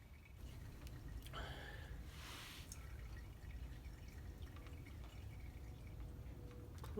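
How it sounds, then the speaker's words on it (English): Fluid running into the reservoir of a Ferrari being put into winter storage, a faint continuous trickling and dripping under low background rumble, with a brief louder splash partway through and no talk. "So fluid is flowing into my reservoir"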